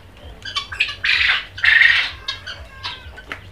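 Quails at a quail farm in Bakshiganj, Jamalpur squawk and chirp loudly and close by, with bursts of shrill calls overlapping one another and no talking.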